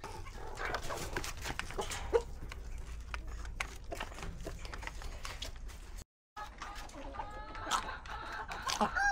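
Free-range chickens cluck and squabble while pecking at azolla mixed into their feed, a busy, close flock chorus with a rooster and a dog in the background, continuous and fairly loud.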